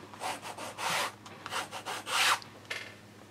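Double-sided adhesive tape being burnished firmly down onto sewing fabric, a run of dry rubbing and scraping strokes in uneven bursts, close and fairly loud with no talk.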